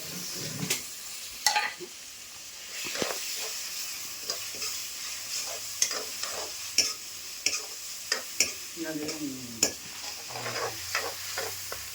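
Tomatoes being stirred and fried in a pan: a steady sizzle runs throughout, broken by repeated scraping and clattering stir strokes of varying loudness, close by with no talking.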